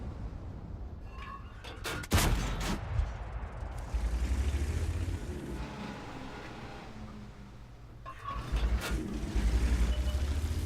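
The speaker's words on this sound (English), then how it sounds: "I take a shot at the ISU" Main gun of an M46 Patton KR tank firing in World of Tanks, a single heavy boom with a crack early on, followed by steady engine rumble and a later louder swell, moderately distant.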